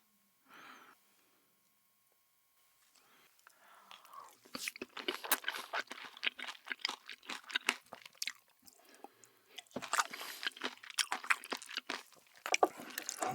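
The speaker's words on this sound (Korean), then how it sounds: "다음은 샐러드 먹을게요." Crunchy salad is eaten up close, with wet, crisp chewing and crunching that begins after a quiet opening and continues steadily to the end.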